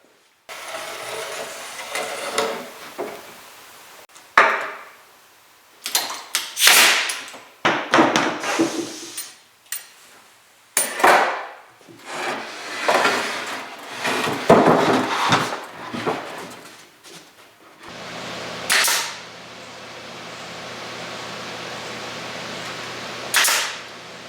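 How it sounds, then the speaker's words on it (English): A plywood bookcase gets side trim glued and stapled on, with loud sharp staple-gun snaps and woody knocks in irregular bursts, then a steady mechanical hum near the end. No one speaks. "So you saw me put these side trim places on and glue and staple"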